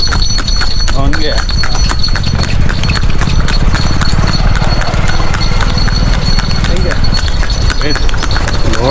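An old horse pulls a cart along a road, its hooves clip-clopping in a steady, continuous rhythm, loud and close, while people talk over it.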